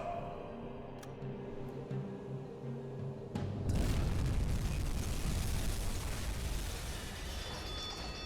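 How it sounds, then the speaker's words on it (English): A torpedo strikes a ship in the submarine game UBOAT, a quiet hum giving way to a sudden deep, rumbling explosion that rolls on as a loud, sustained roar of blast and fire. "another good hit there with that torpedo, and she has got a huge fire on the back"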